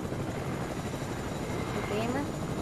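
Steady whirring rotor noise from a Fortnite helicopter, an unbroken mid-level drone under game ambience and some talk.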